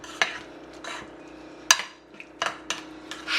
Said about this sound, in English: all you want to do after now is to give that a good mix and bring it all together